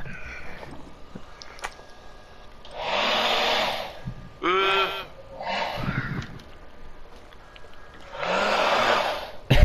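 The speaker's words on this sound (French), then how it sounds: "Non, c'est un sèche-cheveux." A hair dryer runs in Call of Duty: Modern Warfare II, coming as several loud, steady whooshing bursts with short gaps, mixed with other brief game sounds.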